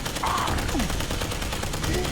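Rapid gunfire in the post-apocalyptic game Fallout 76 on Xbox Series X, a steady, loud barrage of closely spaced shots running through the whole moment without a break.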